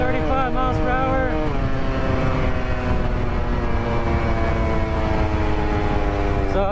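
A 63cc ONYX RCR two-stroke gas engine on a tribrid bicycle runs at full throttle, its buzzing drone climbing in pitch early on, then holding steady and loud with wind noise.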